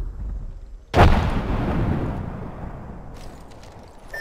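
A frag grenade goes off in the video game Apex Legends as one loud, close blast with a sharp onset. Its rumbling boom and debris decay linger for several seconds, and faint clicks sound near the end.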